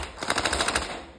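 An AKM47 electric gel blaster with a metal build and an 11.1 V battery fires a quick burst of about eight sharp, loud shots in close succession, heard up close and alone.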